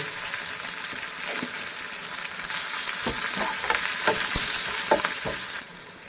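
Asafoetida dropped into hot oil over a low flame for Sindhi daal, a close, steady sizzle and fry with a few clinks of a spoon stirring in the pan, no talking.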